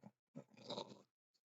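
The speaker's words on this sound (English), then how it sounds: "my dogs are arguing over a treat" Dogs squabbling over a treat, short grunting growls and snarls in quick bursts, fairly close but faint, followed by a tiny yelp-like sound after a pause.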